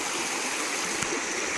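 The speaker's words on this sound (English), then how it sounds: "I've kind of unjammed it now and water's flowing through again" Stream water pours through a small waterfall in American Fork Canyon below Tibble Fork Reservoir, a steady, close, broadband rush with no pauses and no speech.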